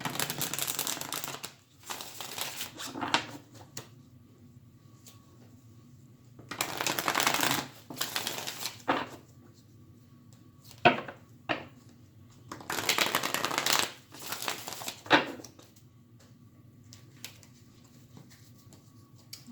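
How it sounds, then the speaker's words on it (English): Several bursts of a deck of cards being riffled and shuffled, separated by quiet pauses, with a few sharp taps between them. "I'm going to shuffle again just to refresh the deck."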